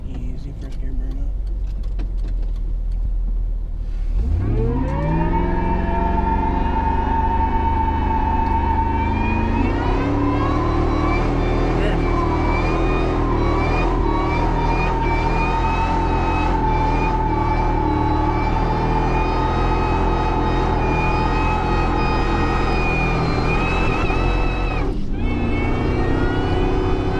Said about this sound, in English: Freaking easy first gear burnout.